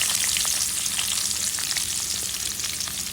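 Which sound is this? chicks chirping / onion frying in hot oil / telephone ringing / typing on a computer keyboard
onion frying in hot oil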